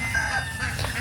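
Chickens and roosters cluck and crow close by on a morning walk in rural Bicol, a steady agitated flock chatter filling the whole second with no talk over it.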